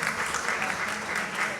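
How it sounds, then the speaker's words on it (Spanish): Audience clapping at a university forum on democracy, a dense steady burst of applause from a crowd lasting the whole brief moment. "unas palmas para ella, por favor."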